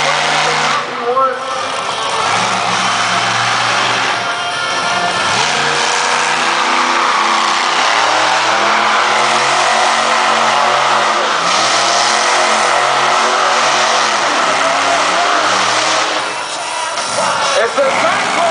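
A supercharged 140-cubic-inch monster truck engine revs hard and loud in repeated surges during a freestyle show in Perris, California, with a continuous roaring drone and crowd noise throughout.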